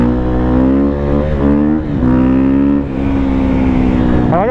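A 2017 KTM 450 EXC-F motorcycle engine revs hard and close, its pitch climbing and dropping in repeated throttle blips with a steady rough drone throughout.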